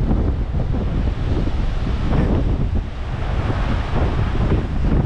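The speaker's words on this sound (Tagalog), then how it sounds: "Sobrang lakas ng hangin mga boys." Strong Hurricane Erin winds batter the microphone at Oxford Park in Bermuda, a continuous loud roaring rumble with no letup, with a wash like surf beneath it.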